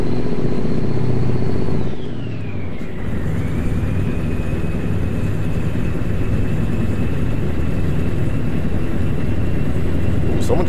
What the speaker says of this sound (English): But the good old Mac engine, I think we got a 610 or 625 horsepower